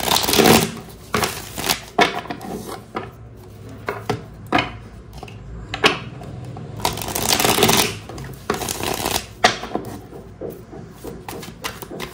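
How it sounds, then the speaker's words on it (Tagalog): A deck of cards is shuffled again and again in a reading session, with crisp riffling bursts and soft rustling between them, close and fairly loud, and no voices. "ito naman po ang ating balasahin."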